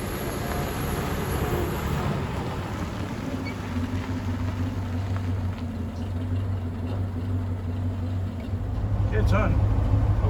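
Steady, close engine rumble from a running 1924 Packard 143 Touring car, a continuous low drone that grows louder near the end as it pulls away, with people talking over it.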